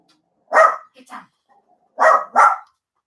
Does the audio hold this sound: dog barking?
yes